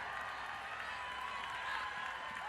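Crowd at an Oklahoma Sooners versus Arkansas Razorbacks college softball game cheering and clapping after a hit, a steady, dense roar of many voices with applause that swells slightly near the end.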